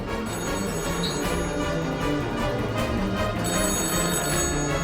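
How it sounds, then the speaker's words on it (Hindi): A telephone bell in an office cabin rings continuously over a dense, loud background bed of music or noise, the ringing steady throughout without any talking. "अकबर के कैबिन का फोन लगातार बज रहा है।"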